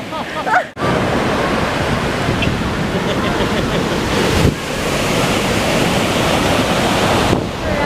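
Surf at a beach roars in a loud, continuous wash of breaking waves, heavily mixed with wind buffeting the microphone.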